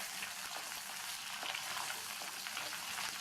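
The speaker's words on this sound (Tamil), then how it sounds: "வெங்காயம் பூண்டு வதக்கிட்டு இருக்கும்போது இது கூட கருவேப்பிலை சேர்த்து" Small onions and garlic sauté in a pan, giving a steady close sizzle and crackle of frying with faint stirring movements throughout.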